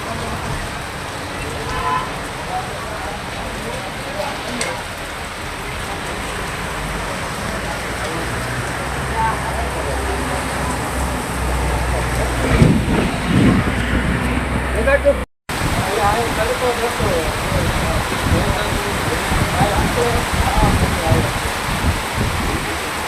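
Heavy downpour with strong wind in Paliyad village, Botad district, Gujarat, a dense continuous roar of rain that swells louder midway, briefly cuts out, then carries on.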